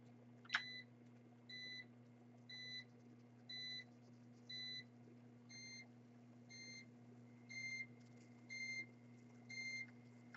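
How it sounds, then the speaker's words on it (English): A quiet electronic buzzer sounds a series of short, evenly spaced beeps, about ten in a steady rhythm, over a low constant hum. "it'll play 5 notes from the right buzzer"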